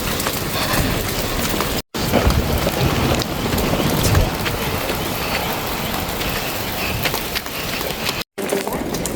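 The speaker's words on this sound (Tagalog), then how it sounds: "malakas na yung ulan" Heavy rain pouring down outdoors during a dumpster-diving trip, a dense, loud, steady roar of wash that runs almost unbroken through the clip with no speech over it.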